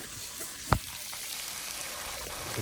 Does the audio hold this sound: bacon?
yes